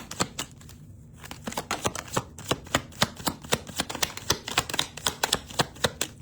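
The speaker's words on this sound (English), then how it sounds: "Last shuffle." Tarot cards are shuffled up close, giving a rapid, dense run of crisp clicking riffles that speeds into a steady patter, with no talking.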